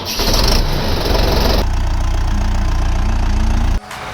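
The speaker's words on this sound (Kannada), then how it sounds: "ಎಂಜಿನ್." A Mahindra SP Plus tractor with a 39 HP three-cylinder engine starts with a loud burst, then settles into a steady, close diesel idle before cutting off abruptly near the end.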